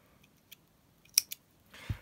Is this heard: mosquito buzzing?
no